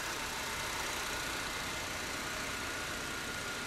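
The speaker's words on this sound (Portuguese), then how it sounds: "Funcionamento em marcha lenta desse Civic perfeita." A Honda Civic engine idles steadily in a repair shop, a smooth, even hum with no revving or variation over a few seconds, and no voices.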